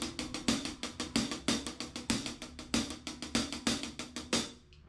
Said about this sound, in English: So it's paradiddle, paradiddle, double paradiddle. Sounds like this.